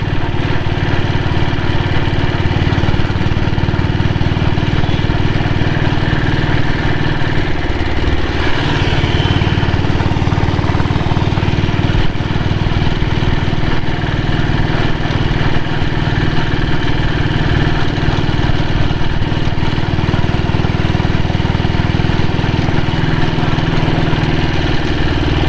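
A 1998 diesel Royal Enfield Bullet motorcycle idles steadily and loudly close by, with a constant low chugging drone that runs unbroken for the whole stretch and has no voices over it.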